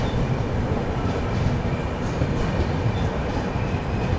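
Yesvantpur - Dr. Ambedkar Nagar Express train running on the line toward Akola Junction via Nanded, heard from on board as a steady, loud rumble of wheels on track with faint high squeals, continuous and without talk.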